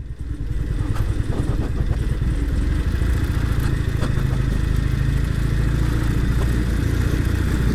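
Norton Commando motorcycle engine droning steadily while riding on a German road, loud and close, with a constant throbbing rumble and some wind and mechanical clatter over it.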